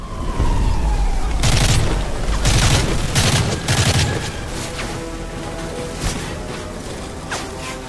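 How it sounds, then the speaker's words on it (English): Rapid bursts of automatic gunfire and booming shots from Call of Duty: Modern Warfare 3 on Xbox 360, loud and dense early on, then thinning into scattered distant shots. "Where are they shooting me from?"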